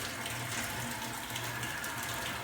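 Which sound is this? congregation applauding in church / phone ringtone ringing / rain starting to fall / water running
water running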